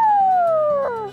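A person's voice imitates an elephant trumpeting with a single loud, sliding 'woo' call that glides downward and fades over about a second.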